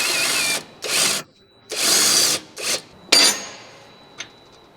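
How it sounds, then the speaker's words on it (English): An impact wrench with a 21mm socket works a Jeep Wrangler JK track bar bolt loose in several short, loud bursts of hammering whir, separated by pauses, ending with a final burst and a small metallic clink. "Using the 21mm wrench, along with the 21mm socket on the impact, we're going to remove the left track bar bolt."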